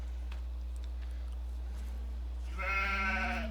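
Sheep in a farming video game, with a single clear bleat near the end following quiet ambience over a steady low hum.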